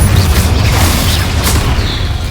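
A Confringo fire spell explodes in the Hogwarts Legacy video game, giving a loud, deep booming blast that rolls on as a steady rumble with crackling debris for about two seconds.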